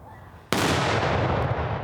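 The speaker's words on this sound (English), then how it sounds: "the cannon is loaded for a second attempt. Fire!" A cannon fires a shot at a black box target on a test range, one sudden loud boom that leaves a long, broad rumbling roar trailing off for over a second.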